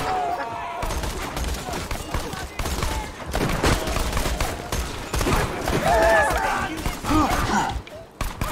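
Gunfire from a gun in the Borderlands 2 video game, a dense stretch of rapid shots and thuds running the whole time at steady loudness, mixed with game effects and some voice sounds.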